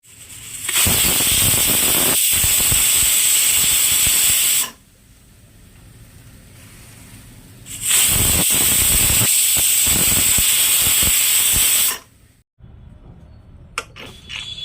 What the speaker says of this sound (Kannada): ಇವಾಗ ಎರಡು ವಿಸಿಲ್ ಬಂದಾಯ್ತಲ್ವ